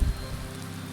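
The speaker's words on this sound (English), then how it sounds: "You can even see the raindrops on the tent too. That's Wonders of Weather at work." Rain falls on a tent in Skyrim with the Wonders of Weather mod, a brief, close patter of drops over a steady hiss.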